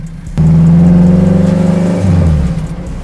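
A 600+ hp tuned Honda Civic engine revs up hard after a near-silent start, a loud, close, sustained mid-pitched roar with rising harmonics that holds for about two seconds, then eases off.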